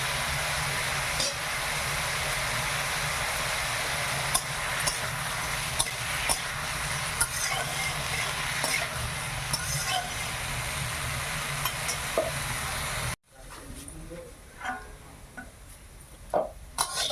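Potatoes frying in a pan in a village kitchen, a steady dense sizzle running for most of the time before cutting off abruptly, followed by quieter clatter and faint background sounds.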